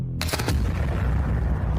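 A Gatling gun fires point blank in an anime fight scene, with a rapid burst of sharp cracks near the start that runs into a dense, loud, rumbling roar.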